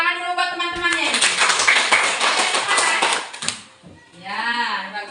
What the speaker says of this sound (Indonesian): Ya, tepuk tangan dulu buat teman-temannya ini.